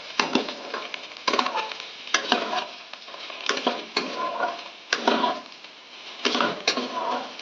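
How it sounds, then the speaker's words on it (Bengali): Okra and boiled potato frying in a pan while being stirred, with a steady sizzle broken by repeated scraping, clattering stirs of a utensil against the pan, close and fairly loud, with no talking. "এবার ভালো করে ভেন্ডি আর আলুটাকে আমরা ভাজবো।"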